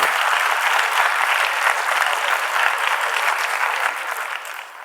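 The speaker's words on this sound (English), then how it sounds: "Let us welcome him with a huge round of applause." Audience applause welcoming a speaker at a university leadership event, a dense sustained round of clapping from a large crowd that holds steady and then begins to fade.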